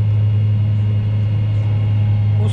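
A Fendt 828 tractor running with a Pöttinger disc mower engaged while mowing a meadow, giving a loud, steady, close-up engine drone with a strong low hum throughout.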